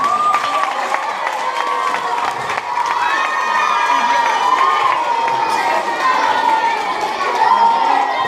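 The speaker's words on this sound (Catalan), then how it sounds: "un gran aplaudiment per a aquests petits artistes" Young performers at a Santa Cecília concert are met by a steady wash of audience cheering and crowd noise, with children's shouts and chatter throughout and some clapping mixed in, sustained and fairly loud.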